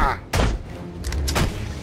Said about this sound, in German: wer schießt denn hier?